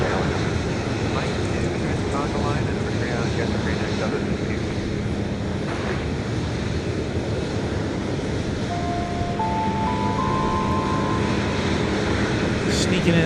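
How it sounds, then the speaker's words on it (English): A Boeing 737 MAX 8 departing Dallas Love Field, a loud continuous jet engine roar mixed with wind buffeting on the microphone. "Here comes the flight that's off to Tampa, the MAX 8."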